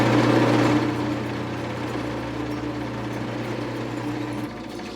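A carbide lathe bit grinds against a spinning Harbor Freight diamond wheel, a steady close motor whine with gritty buzzing that shifts in tone as pressure changes, no talking.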